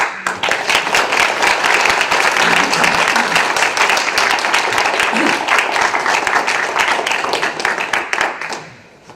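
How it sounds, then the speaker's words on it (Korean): A church congregation gives a warm welcome to a visiting pastor with loud, sustained applause that fills the hall, dense clapping holding steady before tapering off at the end. "우리 박마이클 목사님, 큰 박수로 환영하여서 하나님의 귀한 말씀 듣도록 하겠습니다."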